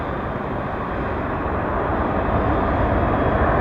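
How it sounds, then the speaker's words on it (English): A jet airliner lands with thrust reversers deployed, giving a loud, continuous broadband roar that swells slightly and holds steady, with no voices over it. "Get those thrust reversers going."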